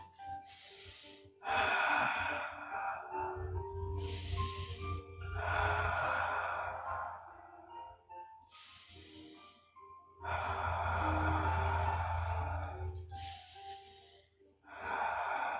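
Slow, deep breaths during a qi gong exercise, long forceful exhalations and quieter inhalations repeating in a steady rhythm, close to the microphone, with no talk.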